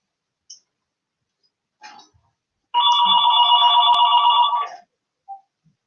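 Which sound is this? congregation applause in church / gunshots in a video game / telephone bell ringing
telephone bell ringing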